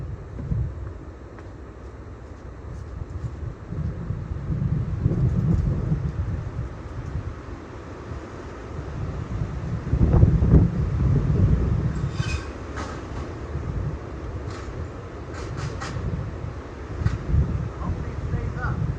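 Strong hurricane wind roaring across an open golf course, a continuous low rumbling buffeting that surges in gusts around the middle, with faint higher rattles and clicks over it.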